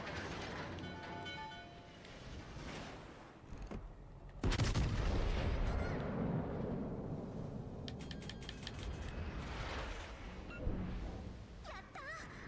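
Naval artillery in World of Warships: Legends, a heavy booming salvo that bursts in suddenly after a quieter stretch and rumbles on loudly with a drawn-out low roar.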